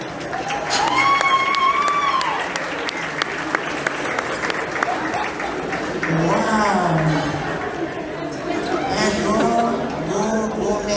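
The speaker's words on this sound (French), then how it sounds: "S'il vous plaît, applaudissez-vous." A gala audience applauds loudly and continuously, with cheers and whoops rising over the clapping and voices calling out through it.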